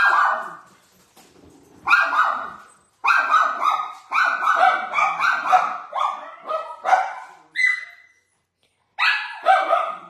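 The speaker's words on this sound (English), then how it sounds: "If you guys think it's bad where you are listening to my dogs bark, try being in here." Several dogs bark indoors in repeated loud, close bursts with short pauses and a few whimpers between them, with no talk over them.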